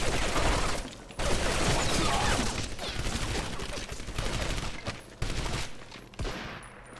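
Rapid gunfire in the World War II shooter Medal of Honor: Vanguard, with dense bursts and volleys of shots running nearly nonstop and a few brief gaps, loud and close, without speech.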